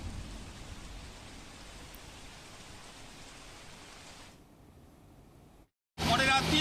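Dense, steady heavy rain hisses for several seconds in Palanpur, Banaskantha, then drops away briefly before a loud burst of noise at the end.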